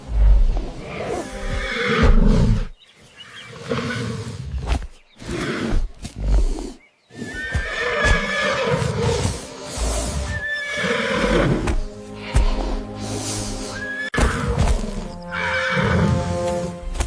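A horse neighs and whinnies repeatedly, loud and close, with hoof thuds during a giant python attack, cries rising and breaking off in uneven bursts with no talk.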